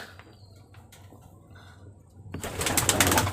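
Pigeons cooing in a loft, soft low coos close by, followed by a burst of louder fluttering and scuffling near the end.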